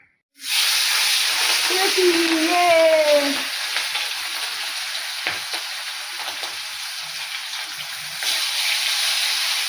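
Fish pieces hit hot oil in a wok with a sudden loud sizzle that settles into a steady, close frying hiss, with a brief voice in the first seconds.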